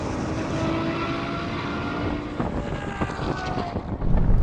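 BMW M8, Nissan GT-R and Ferrari V12 cars racing side by side in a drag race, a dense, steady engine roar with wind buffeting that swells into a louder surge near the end.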